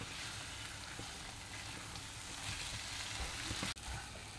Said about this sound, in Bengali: এটা আমি 5-7 মিনিট ধরে মিডিয়াম ফ্লেমে কষতে থাকবো।